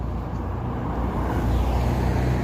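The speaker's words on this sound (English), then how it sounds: "You know, the cars here are very fast." Traffic on a street in Carson, Los Angeles, a moderate, steady roar of cars going by that swells slightly as one passes.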